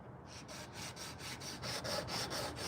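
High-powered sander working a hand-carved wooden spoon, quick regular scratchy strokes about five times a second, rasping against the wood at close range and fairly quiet, with no talking.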